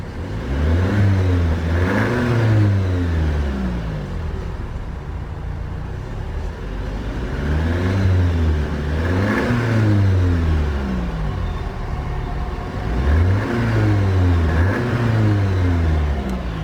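A 2019 Audi TT 2.0 TFSI Black Edition engine revs repeatedly up to its limiter just under 4,000 RPM, three rising and falling sweeps with a close, steady drone between bursts, no speech.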